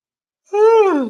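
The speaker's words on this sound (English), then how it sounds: "that was a yawn." A single drawn-out, voiced yawn sounds close and loud after a moment of silence, sliding downward in pitch.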